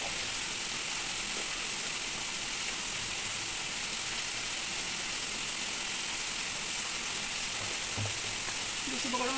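Red chili and cumin sauté in a hot pan, giving a continuous, even sizzle close by for several seconds. A few faint clinks from stirring are heard near the end.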